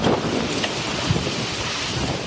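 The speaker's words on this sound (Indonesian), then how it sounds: "Hujan deras disertai angin kencang ini menerjang kawasan tengah Kota Sidoarjo, Jawa Timur." Heavy rain and strong wind sweeping through central Sidoarjo in East Java, a dense continuous roar of wind buffeting and downpour with gusty surges throughout.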